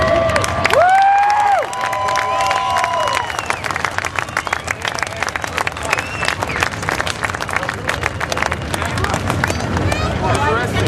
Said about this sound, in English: let's give them all a big cheer, which was a sound that they all loved to hear